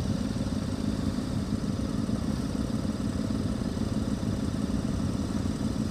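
A motorcycle engine rumbles steadily for about six seconds during a charity ride-out, a continuous, fairly loud low drone with some mechanical clatter and no clear rise or fade as it passes.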